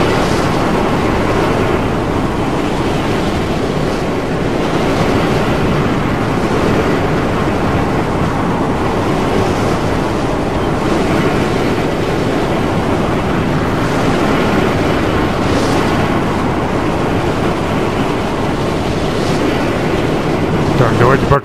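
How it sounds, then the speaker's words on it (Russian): A powerful sandstorm whirlwind in the 2015 Mad Max video game roars as a steady, dense, close wind rush that barely changes for the whole stretch. "Вот он, могучий вихрь."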